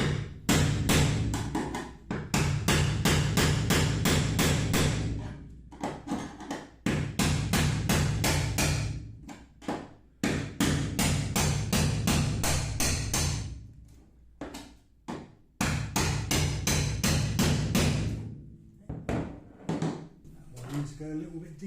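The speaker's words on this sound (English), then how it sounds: "So get the chisel out and start separating the skins." A hammer drives a chisel to separate the body skins of a Volvo C30 shell being prepped as a race car, making long runs of rapid, loud metallic blows with short pauses between bursts.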